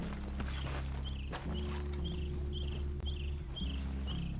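Horses walk with steady clip-clop hooves in Red Dead Redemption 2 as riders dismount, regular hoofbeats close by over a constant low game ambience with faint creaks.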